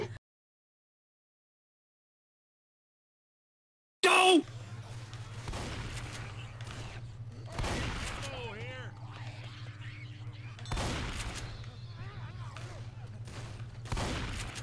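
Gunfire in Left 4 Dead 2 rings out in several loud broadband bursts spaced a few seconds apart, over a steady low game hum and background chatter, following a few seconds of silence.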